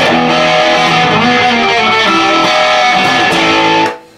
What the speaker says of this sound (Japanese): ちょっとこれを鳴らしてみましょうか。オレンジのアンプ。